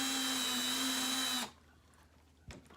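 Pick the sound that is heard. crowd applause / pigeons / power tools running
power tools running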